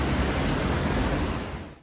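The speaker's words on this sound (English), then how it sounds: "Look how fast this water is coming down through there." Fast-flowing water rushing down through Thingvellir National Park in Iceland, a loud, dense, continuous roar close to the microphone that eases slightly at the end.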